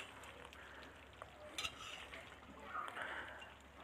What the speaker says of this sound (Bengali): গরম মশলা আমি মিক্স করে দেব।